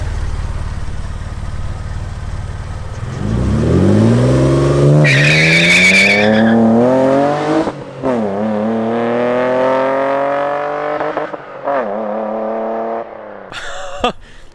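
A Toyota MR2 with a new exhaust does a launch control start: a loud revving hold and rising engine pulls through the gears with a brief tire chirp, close and alone.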